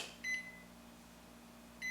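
Zojirushi NP-HCC10 rice cooker menu button beeps: two short, clear electronic tones spaced well apart, one early and one near the end, over a quiet room hum.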